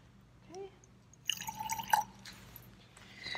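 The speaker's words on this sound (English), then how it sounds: "Next, you need to add some distilled water." Distilled water drips from a syringe into egg yolk: a couple of soft, close plinks first, then a brief burst of gentle wet dripping and squishing, all quiet and without talk.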